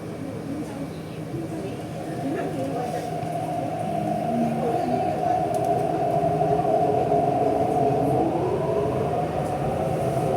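Metro train running from Exhibition Center toward Admiralty in Hong Kong: a steady low rumble and rising hum of the moving carriage, growing slightly louder, with faint, muffled voices inside the car.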